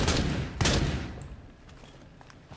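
Bursts of gunfire come from a ranked match of Rainbow Six Siege: two heavy, close volleys early on, then scattered fainter shots trailing off.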